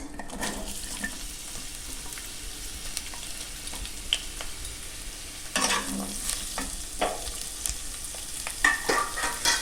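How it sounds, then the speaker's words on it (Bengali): Onions frying in a pan with dried red chillies while being stirred: a continuous sizzle broken by scraping strokes, growing louder and busier about halfway through, with no voices. "পেঁয়াজগুলোকে আমি হালকা করে এভাবে নাড়াচাড়া করে লাল লাল মতো করে নেব"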